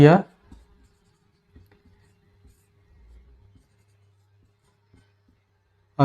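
A pen scratches out a quadratic equation on paper during a class 10 maths lesson, with faint intermittent strokes between brief bits of a man's speech at the start and end.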